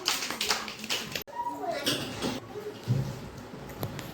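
Young children at an anganwadi clap together for Pari-ben, bursts of scattered hand claps mixed with lively voices talking over them.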